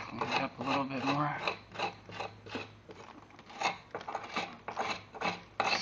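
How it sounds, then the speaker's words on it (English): An oscillating multifunction power tool scrapes old mortar off a surface in a rapid, rasping series of close, repeated strokes, with a few short pauses between passes. "Scrape it off. That's all you're doing."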